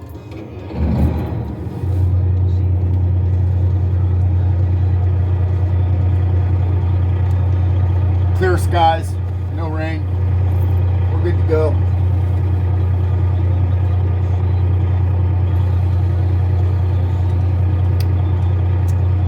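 A semi truck's diesel engine cranks and fires up, then settles into a steady, loud low idle rumble that continues throughout, with someone talking briefly partway through.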